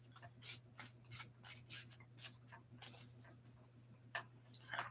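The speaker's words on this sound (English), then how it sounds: "I'm just going to give these some shuffles" Crisp, rhythmic riffling and snapping of tarot cards being shuffled up close, a series of quick bursts repeating about twice a second.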